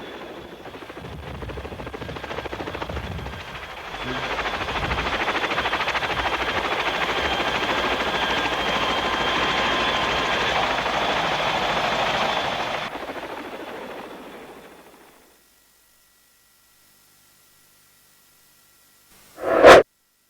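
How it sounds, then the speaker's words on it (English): Apache attack helicopters fly past with a steady, loud rotor and turbine roar that holds for about twelve seconds, then fades away into silence, followed by a brief sharp burst at the end. "escorted by the Apache attack helicopters"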